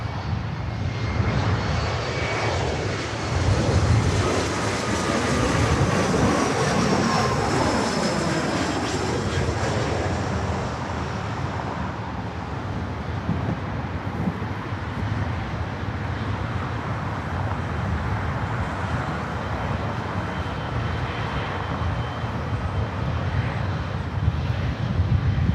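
An airplane at Los Angeles International Airport roars steadily through the whole stretch, loud and sustained with broad engine rumble. The sound swells slightly early on, then eases a little, with faint road traffic mixed beneath.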